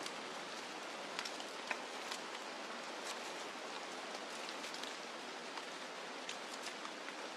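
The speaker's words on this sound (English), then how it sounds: "The downpour cools the spirits of the animals here, who bear the deluge with stoicism." Heavy rainstorm in a Costa Rica jungle, a steady dense hiss of downpour on foliage with scattered louder drops, constant throughout and no voices.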